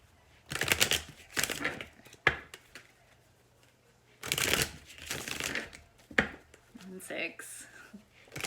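Several bursts of tarot card shuffling, crisp riffling rattles in quick runs separated by short pauses, close and fairly loud.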